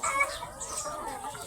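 Chickens clucking close by in a short, steady burst of fowl chatter with no talk over it.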